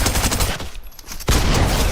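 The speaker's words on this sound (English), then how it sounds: "First I lasered him for a little bit with the stinger and then finished him off with the pump shotgun" Stinger gun in Fortnite fires a loud, dense rapid stream of shots, breaks off briefly, then resumes at full intensity, close and alone with no talking.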